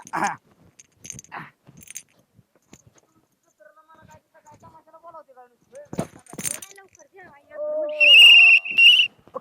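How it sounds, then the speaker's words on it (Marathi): A few soft voices and clicks, then a loud, shrill whistle blast with a brief second toot right at the end. "शिट्टी वाजवली का रे आता"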